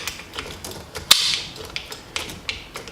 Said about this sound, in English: there's 4 over here that we're gonna just undo with an Allen key